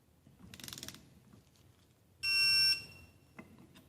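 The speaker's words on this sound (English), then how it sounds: "I'm going to take my torque wrench in my right. And I'm just going to bring them together very slowly and carefully." A torque wrench tightens bolts during reassembly of a Toro small engine, with a soft mechanical rattle followed by a loud, steady, piercing tone lasting about half a second and a brief click near the end.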